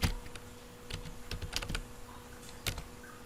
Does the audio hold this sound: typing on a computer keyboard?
yes